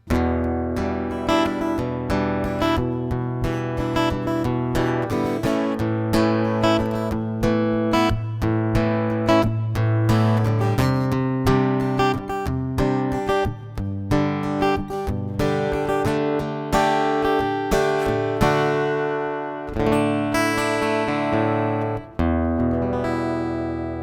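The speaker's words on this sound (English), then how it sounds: "this is what most guitar pickups sound like when people play their guitars" An acoustic guitar heard through an active undersaddle pickup with no impulse response plays continuous strummed and picked chords with a bright, slightly quacky tone, loud and close, without any talking.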